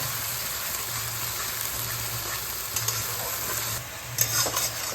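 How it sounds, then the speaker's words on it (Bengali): Onion paste fries in a pan over a medium flame with a dense, steady crackling sizzle throughout, with a few louder bubbling spurts and a stirring scrape near the end. "পেঁয়াজ বাটাটা আমি মিডিয়াম ফ্লেমে খুব ভালো করে ভেজে নিয়েছি"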